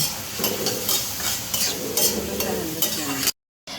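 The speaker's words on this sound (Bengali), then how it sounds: "আমি দেড় কাপ পরিমাণে পেঁয়াজ কুচি দিয়ে দিব পেঁয়াজটা ভালো করে নেড়ে ছেড়ে দিব" Chopped onions stirring and frying in hot soybean oil, a continuous close sizzle broken by repeated spatula scrapes against the pan, ending in a brief dropout of silence; no talking.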